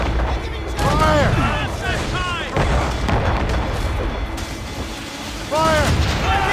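Ship cannons in Assassin's Creed Rogue boom in heavy, rolling volleys during a naval battle, loud and close, with shouted voices in between.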